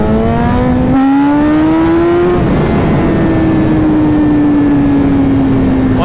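A BMW S1000RR superbike pulls hard through the gears: a loud, close engine note climbs in pitch, breaks at a shift, then drones on at high revs, alone without talk.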